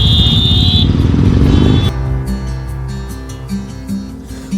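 A group of about 30 motorcycles, including Royal Enfield Interceptor 650s, on an Independence Day ride, heard as a loud engine roar and rev that gives way to passing engine sounds under music.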